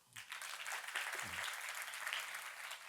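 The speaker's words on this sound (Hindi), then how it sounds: "तो इनके लिए स्पेशल तालियां।" A church congregation gives special applause for children sitting board exams, a soft, distant spatter of clapping that continues evenly, with a brief voice underneath at the start.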